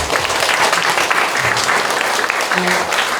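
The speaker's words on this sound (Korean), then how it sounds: "우리 다 같이 영광의 박수를 하나 보내주십시오" A church congregation applauds at a sanctuary dedication thanksgiving service, a dense, steady wash of many hands clapping that fills the hall, with faint voices beneath.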